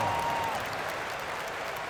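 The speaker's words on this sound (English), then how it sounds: "Give yourself a round of applause." A video game crowd in NBA 2K26 applauds steadily at a Lakers versus 76ers basketball game, a continuous wash of clapping at moderate volume with a brief faint tone at the start.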